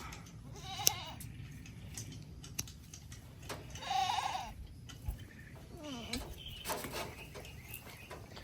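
Fussy, restless goat during hoof trimming, giving a few short bleats scattered among scuffles and handling noises at close range, with quiet talk in between.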